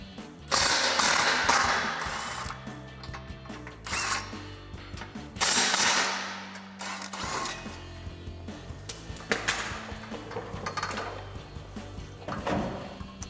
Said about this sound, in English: we can grab our 16mm socket to remove our bolts and support the weight of it with our other hand